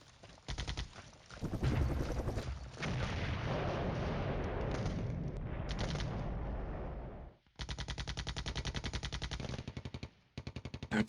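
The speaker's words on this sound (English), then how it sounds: "And hitting artillery." Artillery fire in the Cold War strategy game Flashpoint Campaigns: Cold War, a loud, dense stretch of rumbling barrage that breaks off abruptly, then resumes as rapid, regular bursts of fire.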